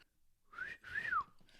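A person whistles two short notes, the second one rising and then falling, faint and alone in a quiet room.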